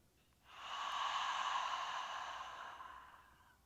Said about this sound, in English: Mouth open, that gasping or vacuum sound.